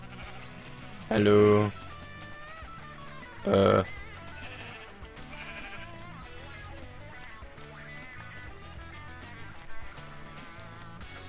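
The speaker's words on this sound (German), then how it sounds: "Das sind aber echt sehr viele Schafe." Sheep bleating in the video game Minecraft, two loud short bleats near the start of the segment over background game music, with someone talking around them.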